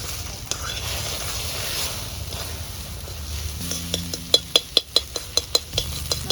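A spatula stirs egg momo filling in a sizzling pan, first a soft continuous fry, then a run of sharp rhythmic scrapes and taps against the metal.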